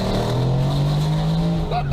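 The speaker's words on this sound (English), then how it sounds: "To sort out this issue, Mike installs a Valvetronic exhaust, and it makes a massive difference" Car engine revving through a newly installed Valvetronic exhaust, a loud sustained drone that climbs slightly in pitch and holds steady, with a brief voice near the end.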